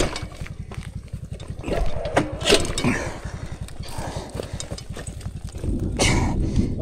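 A small engine idles close by with a fast, even putter, steady throughout, while a few people talk briefly over it.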